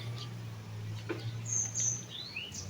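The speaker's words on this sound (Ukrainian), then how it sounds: "Пташки співають" Faint high chirps and short whistled bird calls over a quiet background hum, a few scattered notes.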